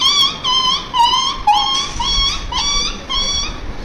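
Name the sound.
child imitating a puppy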